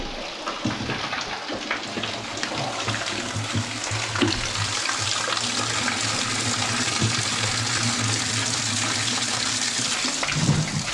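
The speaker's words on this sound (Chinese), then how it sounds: "它这个是长流水，不知道是泉水还是，应该是泉水。" Spring water runs continuously from a tap into a bottle on a high-altitude roadside, a loud steady splashing gush that persists throughout.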